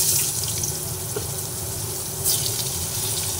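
Potatoes dropped into hot oil left over from frying fish sizzle loudly and continuously at close range, a dense steady crackle with a brief surge partway through.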